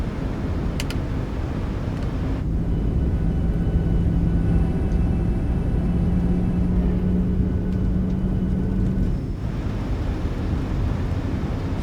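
A PMDG 737 airliner on final approach with gear down in Microsoft Flight Simulator gives a steady, loud broadband engine and airflow rumble throughout, with a sustained low drone in the middle stretch.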